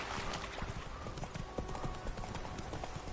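A horse trotting in The Witcher 3, its hooves clip-clopping in a quick, regular rhythm, close and distinct over a soft ambient background.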